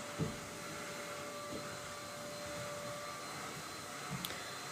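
Continuous muffled whir of a vacuum cleaner in the background, steady throughout with a few faint bumps and clicks.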